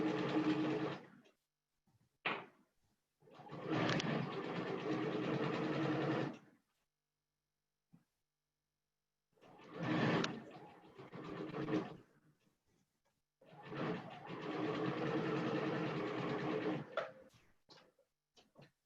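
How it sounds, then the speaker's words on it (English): Domestic sewing machine stitching pockets onto a ribbon skirt, running in several steady bursts of a few seconds each with silent pauses between, close and fairly loud. "Just gonna sew those pockets right there."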